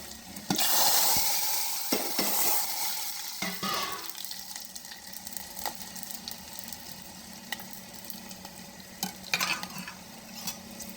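A tempering of cumin, mustard seeds and dried red chilies sizzles in hot oil for dal, a crackling fizz with stirring scrapes and a few utensil knocks, loudest at the start and then settling to a steady sizzle, with no voices.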